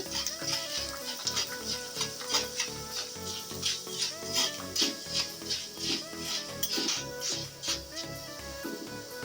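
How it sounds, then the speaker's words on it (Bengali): Leftover cooked rice dropped into hot oil, crackling and sputtering in a regular series of pulsing bursts, fairly quiet and close, with no voices. "এই জালির পরেই আমি অল্প অল্প করে চালগুলো দিয়ে ভেজে নেব"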